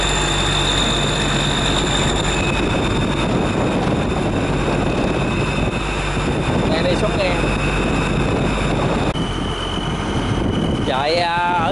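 A friend's boat fitted with a Hino six-cylinder engine running behind on the water, a continuous low mechanical drone with wind and water noise, while people talk over it.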